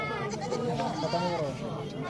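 Goats bleat repeatedly at a busy goat market in Munshirhat bazaar, their wavering cries mixed with people talking nearby.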